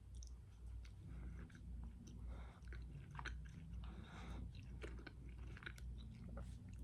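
Close, quiet chewing and biting of an orange Lifesaver gummy candy, soft sticky mastication sounds repeating over several seconds with no talking.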